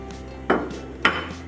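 A frying pan is set on the stovetop with two distinct metallic clanks about half a second apart, fairly close and clear over a quiet background, while butter goes in for a gravy.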